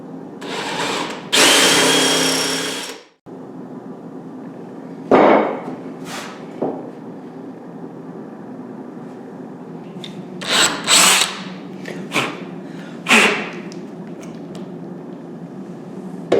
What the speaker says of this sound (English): I'm going to go ahead and drill out the tiller bolt hole for the insert.